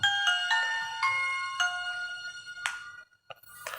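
Nokia mobile phone with a loud music-oriented loudspeaker playing its startup tone: a short series of bright, clear chime notes in a melodic sequence, fairly close and alone, ending with a couple of brief clicks.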